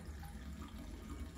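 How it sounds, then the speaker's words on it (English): Water running out of a valve on a Lochinvar FTLX boiler being drained of about a litre, a steady close splashing and trickling flow with no talk. "and the water comes out there"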